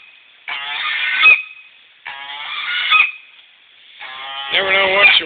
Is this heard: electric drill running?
no